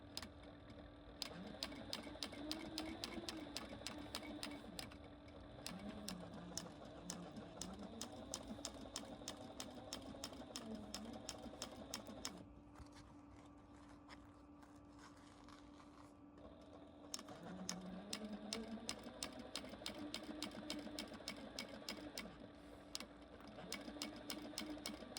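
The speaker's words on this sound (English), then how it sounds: "I'm sewing down the seam underneath, just close to the edge here" A sewing machine stitches down a seam beneath an RV back seat cushion cover, running in a steady rapid rattle for about twelve seconds, pausing briefly, then resuming at the same even pace.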